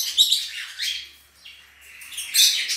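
A Personata lovebird pair, a cobalt male with a dilute blue female, gives shrill chirping calls in short bursts, a loud burst at the start, softer calls in the middle, and another strong burst at the end.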